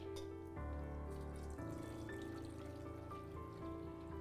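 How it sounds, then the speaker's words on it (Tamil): Water is strained through a metal strainer into a vessel in a kitchen, giving a soft, steady trickle and splash that runs continuously and faintly beneath a hum of background tones. "அந்த உலோக வடிகட்டியில் நான் இந்த தண்ணியை வடிகட்டுறேன்"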